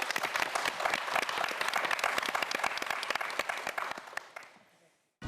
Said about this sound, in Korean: 4명의 도전자들에게 마지막으로 다시 한번 큰 박수 부탁드립니다